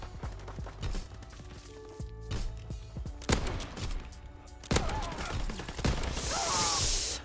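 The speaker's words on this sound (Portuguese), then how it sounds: "Não parem de atirar." Rapid bursts of gunfire in a first-person shooter video game, repeated shots crackling close by with short pauses between volleys and some impact noise, no talking.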